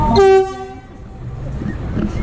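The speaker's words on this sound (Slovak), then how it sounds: "ste si pozreli nátočný motorový rušeň 742-6 železničnej spoločnosti Cargo Slovakia" A Cargo Slovakia class 742 diesel locomotive at a locomotive parade in Košice gives a short, loud horn blast, then its engine rumbles on steadily nearby.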